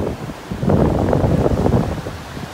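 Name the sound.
strong wind and gulf waves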